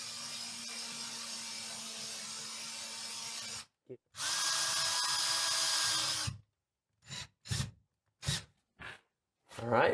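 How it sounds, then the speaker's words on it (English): A power drill whirs in two sustained bursts while drilling into a wall to hang a mirror, close and loud, followed by several short trigger pulses of the motor spinning up and stopping. "If you find yourself struggling, you can always drill a pilot hole."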